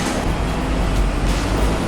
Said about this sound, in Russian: ездят вот такие вот интересные мини-трамвайчики